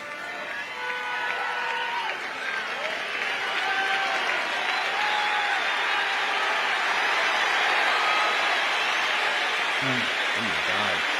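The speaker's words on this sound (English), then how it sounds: "Just listen to the crowd at the end, though. They don't make drum corps crowds like this anymore." A large drum corps audience roars with sustained applause and cheering after a Cadets show finale, a dense, loud wash of clapping and shouts that stays steady throughout, with a brief voice near the end.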